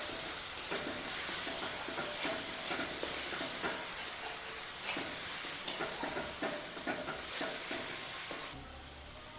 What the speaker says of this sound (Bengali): এখন নাড়িয়ে নিতে হবে।